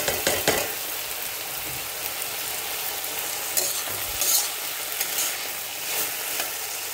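Bottle gourd and moong dal curry sizzling steadily in a pan with occasional stirring scrapes, a continuous close frying hiss with no talk.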